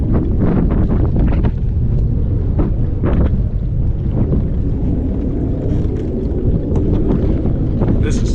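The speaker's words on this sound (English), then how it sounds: "Now I got that wind." Strong wind buffeting the microphone on a lake during bass fishing, a loud continuous low rumble with gusty bursts that nearly swamps everything else.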